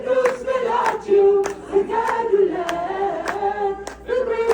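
A congregation claps together in an even, repeating beat about every half second while a worship song is sung over the claps.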